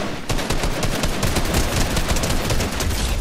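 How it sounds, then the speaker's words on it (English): Sustained rapid gunfire from a Fortnite firefight at Loot Lake on the original map, dense overlapping shots crackling continuously and loudly with no pauses. "they just shot my bush off"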